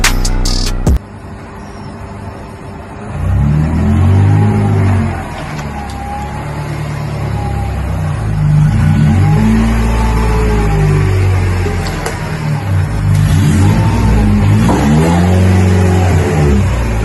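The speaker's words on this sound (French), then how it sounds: "on a notre bonne vieille CLK, on va aller bosser un peu dessus et on va étouffer un peu son bruit." An old Mercedes CLK engine revs repeatedly, rising and falling in several loud, rumbling surges over a steady idle, close by with no talking.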